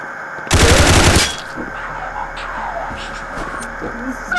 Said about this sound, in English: You hear that? Tommy gun?